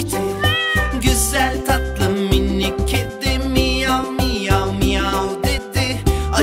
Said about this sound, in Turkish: Güzel tatlı minik kedi miyav miyav miyav dedi.